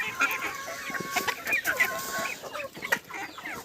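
A flock of chickens being fed an autumn vitamin mash, clucking and chattering busily and close by, with many overlapping calls and a few sharper squawks.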